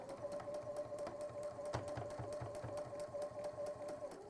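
A sewing machine sews a pleat into fabric with a steady, rapid needle rhythm and soft motor hum, running continuously at moderate, fairly quiet level throughout.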